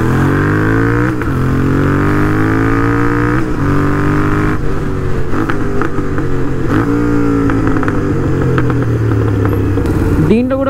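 A motorcycle exhaust drones steadily and loudly during a night ride through Hyderabad city streets, its pitch rising and falling as the engine revs change through the ride.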